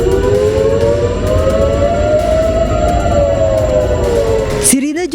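A loud, wailing air raid warning siren in Haifa, Israel, rising and falling steadily over a constant rumble, cut off abruptly near the end.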